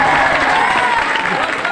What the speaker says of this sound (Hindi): तो वंस मोर के लिए तालियां पूरा मजमा ऐसा लगे